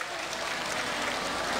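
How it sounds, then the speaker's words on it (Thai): A studio audience at a Thai variety show applauds, a steady, even wash of many hands clapping throughout the short moment. "ขอเสียงปรบมือด้วยนะคะ"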